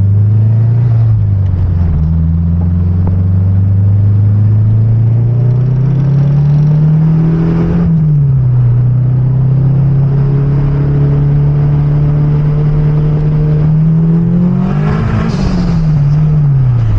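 A 500 hp Honda Civic sleeper engine accelerating loudly and close, its drone climbing through gears with pitch drops at each shift and a strong pull near the end.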